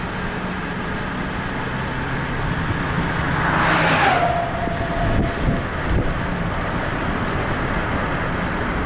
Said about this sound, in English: Gonna have some traffic coming by right now.